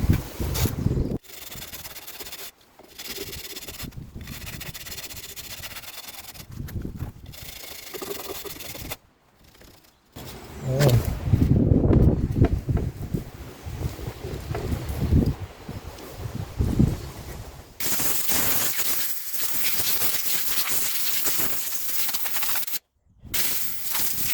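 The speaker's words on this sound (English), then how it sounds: "Let's get a wire brush and do some cleaning up" Wire brush scrubbing brake parts on a Land Rover barn find, rough rasping strokes in uneven bursts with brief pauses, loud and close, sometimes steady and sometimes choppy.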